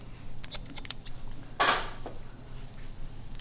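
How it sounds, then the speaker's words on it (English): Scissors snip hair during a boy's pompadour haircut, a few quick close metallic snips spread through a quiet room, with one louder cut near the middle. "I'm just gonna go through this whole area and just do a few snips"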